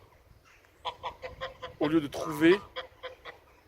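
Geese honking loudly close by, a burst of harsh overlapping honks mixed with softer clucking calls, while someone talks in French alongside them.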